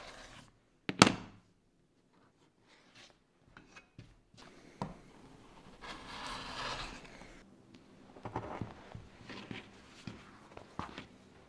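Lining fabric for a tote bag pocket being handled, traced around a pattern and cut, giving scattered soft rustles, scratches and snips with a sharp thump near the start, close and fairly quiet, no voices.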